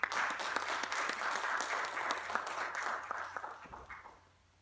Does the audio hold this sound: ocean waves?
no